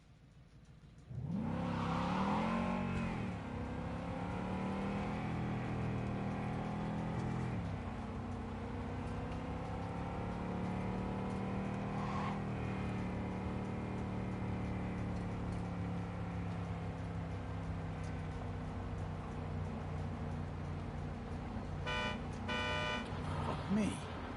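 Car engine droning and revving steadily while driving in the video game Cyberpunk 2077, sustained and fairly loud, with a rising rev near the start and a voice talking over it.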